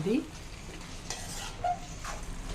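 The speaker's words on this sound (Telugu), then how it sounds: "ఇప్పుడు ఈ దొండకాయలు అండి ఇందులోకి వేసేసుకుందాం. మిక్స్ చేద్దాం." Ivy gourd (dondakaya) pieces stirred into hot oil in a pan for a no-onion, no-garlic Udupi-style curry: a soft, steady sizzle with a few scraping stirs, close and moderately quiet, no talking.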